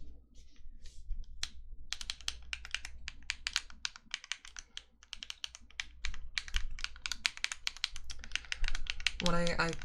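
Rhythmic tapping on a computer keyboard during a quiet ASMR stream, with fast bursts of close keystrokes and brief pauses, ending in a short denser flurry.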